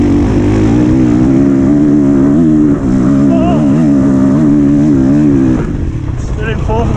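A Honda CRF 450R dirt bike engine revs hard and climbs through the gears, its loud, close buzzing drone rising in pitch, dipping at each shift, then easing off toward the end.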